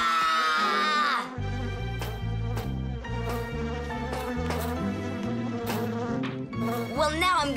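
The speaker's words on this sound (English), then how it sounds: "Bees don't bite, by the way. They sting ya." A cartoon bee buzzes with a wavering insect drone, set among steady rhythmic music that carries through the whole stretch.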